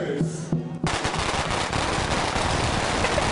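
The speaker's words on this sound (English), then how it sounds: "light the firecrackers." A rapid, dense string of firecrackers crackles and pops loudly and continuously after a brief quieter moment, at the start of a Chinatown race in Los Angeles.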